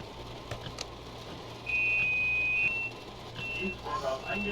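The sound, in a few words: train door warning beeps in Train Sim World video game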